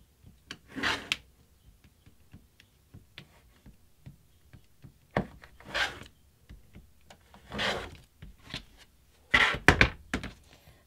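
Fabric being cut into 2.5-inch strips for a quilt: a series of faint, separate scraping strokes and soft thunks spread unevenly across about eleven seconds, with quiet gaps between them.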